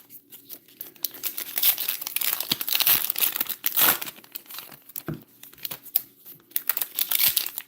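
Foil wrappers of Topps trading card packs are ripped open and crinkled by hand, a close, busy series of crackling tears and crumples in irregular bursts.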